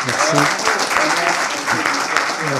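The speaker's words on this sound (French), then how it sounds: "je vous propose qu'on applaudisse euh, le brave docteur" Audience applauding a lecturer at the close of a talk on nanomedicines, a dense steady wash of many hands clapping together, with a voice speaking faintly underneath.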